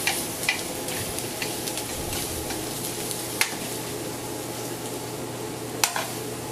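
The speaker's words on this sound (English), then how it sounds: "I put just another small piece of butter in the skillet" Chicken frying in butter in a skillet, a steady close sizzle with occasional sharp ticks and pops from utensils or spatter.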